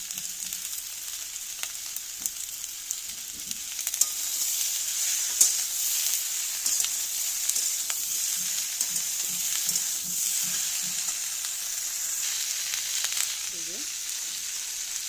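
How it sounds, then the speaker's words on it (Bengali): Capsicum and tomato sizzle and fry steadily in oil in a pan with onion for chilli soyabean, a continuous close crackle with a few soft stirring knocks and no talk. "এবার ক্যাপসিকাম আর টমেটো দেব"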